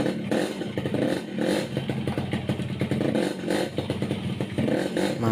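A Yamaha RX King two-stroke motorcycle engine, just fitted with a replacement clutch, runs close by with a steady rattling idle and repeated throttle blips rising in bursts throughout, with mechanical clatter underneath.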